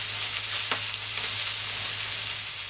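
Meat sears on a hot plancha griddle with a steady, dense sizzle and a faint crackle, close and continuous throughout with no voices.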